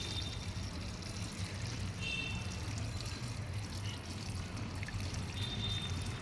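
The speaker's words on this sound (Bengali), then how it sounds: "তুলসী গাছে আমি একটু জল দেব।" Water is poured onto a tulsi plant on a rooftop, a faint, steady trickle running without a break and with no talk over it.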